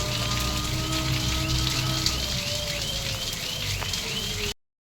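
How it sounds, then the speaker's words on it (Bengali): Rain pours steadily outdoors along a flooded pilgrimage route, a dense close hiss holding even throughout before cutting off abruptly near the end, with faint whistling tones underneath. "বৃষ্টি, দেখো বৃষ্টি।"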